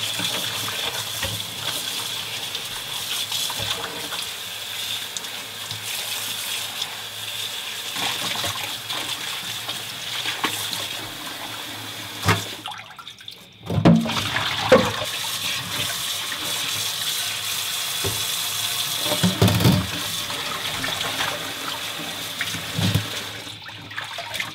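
A kitchen tap runs steadily over blanched cabbage being washed, splashing continuously, with a brief pause and a few louder splashes midway.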